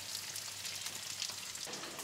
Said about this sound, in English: While the salmon is cooking